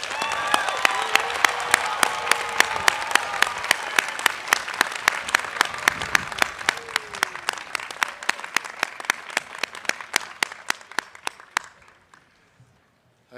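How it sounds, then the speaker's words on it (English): A graduation commencement audience at Westminster University bursts into sustained applause, many hands clapping in a dense steady roar that gradually thins into scattered claps and fades out near the end. "Please join me in a round of applause for these new graduates."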